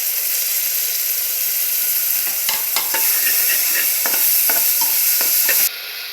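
Ginger and garlic paste sizzling and frying in a hot pan, with a steady loud hiss, scraping stirs and clinks of a utensil against the metal, then a drop in the sizzle near the end.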